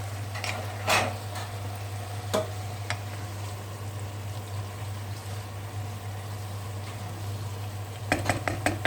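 Potatoes and mushrooms stirred in a pot over a steady low hum, with a few sharp metallic scrapes and clinks of a utensil against the pot near the start and a quick cluster of clatters at the end.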